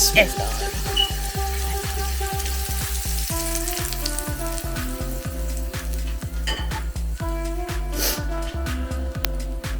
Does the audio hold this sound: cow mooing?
no